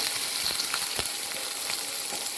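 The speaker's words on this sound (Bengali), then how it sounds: "সর্ষেটা ফেটে উঠেছে, এবার আমি এর মধ্যে কাঁচা আমটা দিয়ে দেব।" Raw mango pieces dropped into hot oil with popping mustard seeds, a dense, continuous close sizzle with faint crackles and a soft knock or two, no voices.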